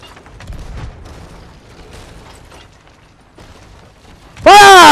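Cannon blast in Sea of Thieves, a sudden loud burst near the end that stays saturated, after quieter clatter and shuffling on the ship.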